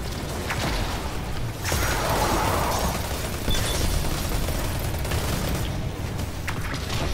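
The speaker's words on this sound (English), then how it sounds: "Ooh, someone's shooting." Dense, continuous gunfire in the sci-fi shooter Destiny 2 rattles on for several seconds as a steady wash of overlapping shots and mechanical clatter, loud and without pause.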